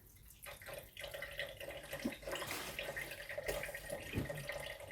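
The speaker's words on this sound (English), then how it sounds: "Turn the water off." Water running from a sink tap during a strainer pour paint session, a steady hiss of flow with faint splashing and drips, fairly quiet and close.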